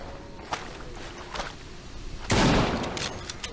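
Bolt-action rifle fire in the Old West survival game Heat, with a single loud blast standing out among a few fainter sharp cracks and light footsteps, no talking.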